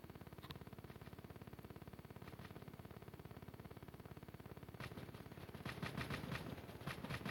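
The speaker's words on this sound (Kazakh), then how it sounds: "жаман атыс болып жатшы" Rapid, continuous video-game gunfire rattling steadily throughout, with a few louder bursts near the end; no talking.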